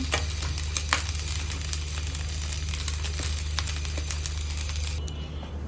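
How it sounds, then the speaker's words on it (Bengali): Leftover rice fries with an egg, giving a steady, even sizzle with faint ticking crackles under a low, constant hum, close by and unbroken for several seconds before easing slightly at the end. "বাসি ভাত ছিল অল্প কয়টা ভাবলাম একটু ভেজে খাওয়া যাক সাথে একটা ডিম"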